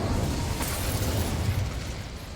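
An Incendio fire spell is cast in the Hogwarts Legacy video game, a dense roaring burst of flame and crackle with a sharp flare partway through, loud and sustained.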